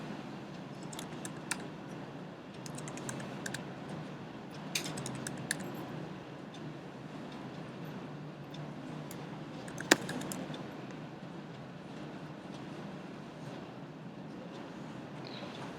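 Rapid keystrokes tapping on a computer keyboard while filling in web form fields, a steady run of light clicks with a few sharper taps, close and fairly quiet against a soft room hiss, no talking.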